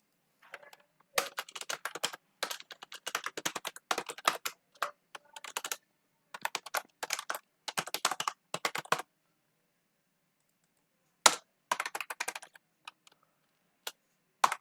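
Password being typed on a computer keyboard, bursts of quick close key clicks separated by short pauses, then a long silence and a few final taps.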